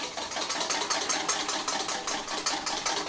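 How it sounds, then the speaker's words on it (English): Eggs whisked in a bowl for Pu'er tea muffin batter, a steady rapid scraping and clinking rhythm of the whisk against the bowl, close and fairly loud, with no talking. "we're just going to whisk the egg together nice and well"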